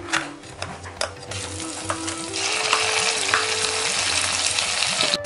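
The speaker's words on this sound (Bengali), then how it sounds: "আমাদের পেঁয়াজটা একটু দেখুন ফ্রাই হয়ে গেছে" Onion and spice paste fry in a pan with a bright, crackling sizzle that swells louder partway through, close up, alongside a low steady hum and faint scraping.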